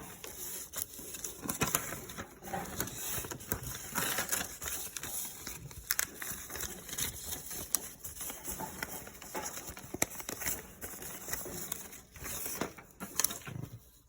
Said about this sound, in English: I will now wrap the paper bindle.